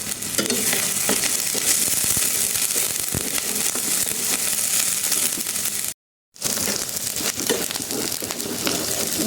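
Spices and bay leaf fry in hot oil with a loud, dense sizzle and constant stirring scrapes that break off briefly in a moment of silence before resuming, close and alone.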